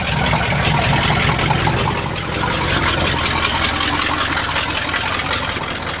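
A 1977 GMC 400 truck's big-block engine runs steadily up close, a loud, continuous rumble that holds at a near-constant level for the whole stretch.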